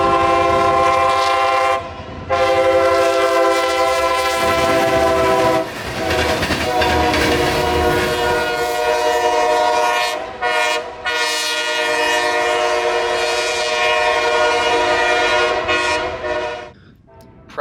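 A local freight train passes at Plant City, its horn blasting loud and long in repeated sustained blows over rumbling wheels and clattering cars, close by with brief pauses between blasts.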